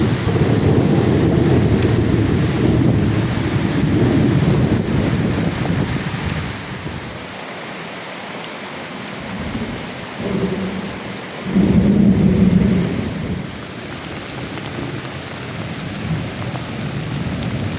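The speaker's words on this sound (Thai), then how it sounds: "เสียงฟ้าห้องพี่น้อง" A heavy thunderstorm over a farm field hut, with steady loud rain and wind, deep rolling thunder rumbling up in the middle and swelling again toward the end.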